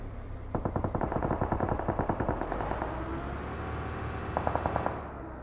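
Rapid bursts of automatic gunfire from a video game firefight, loud, sharp repeated shots in several strings, with a shorter burst near the end and no talking.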